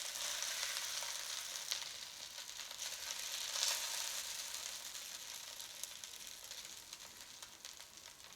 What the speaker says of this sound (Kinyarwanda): mbone gukaranga ibitunguru